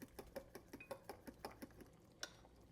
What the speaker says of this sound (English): And just stir that up there